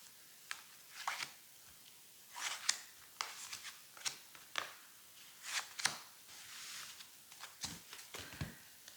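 Tarot cards are shuffled for a cross spread in soft, uneven bursts of riffling and sliding card noise, close and quiet, with brief pauses between handfuls.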